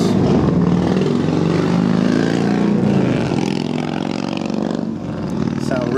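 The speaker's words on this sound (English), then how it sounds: "Sound really good on this bike." A Harley-Davidson Road King Classic FLHRCI with a hypercharger-style intake and Vance and Hines dual mufflers runs at a loud, close, steady idle, a deep throbbing rumble that dips slightly near the end.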